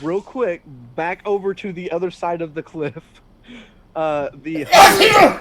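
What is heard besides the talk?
aggressive sneeze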